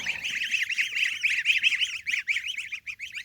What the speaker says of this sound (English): So we got these 7 geese, and I'll get out of here because they're very noisy.